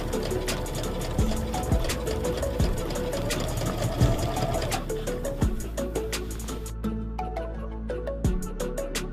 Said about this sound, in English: And now I'm going to lift the sewing foot and turn the fabric until I'll be able to continue sewing here.